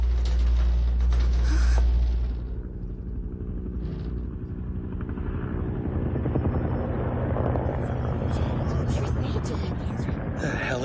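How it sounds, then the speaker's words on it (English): Military joint force helicopters fly in an anime scene, a loud steady rotor thrum and engine roar that swells at first, then holds throughout as a voice speaks over it. "Those are joint force choppers."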